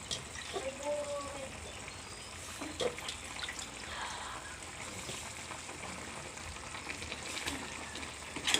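Bitter gourd (ampalaya) and taro sauté with meat, garlic and onion in a pan, giving a steady, close sizzle with occasional stirring scrapes and faint voices in the background.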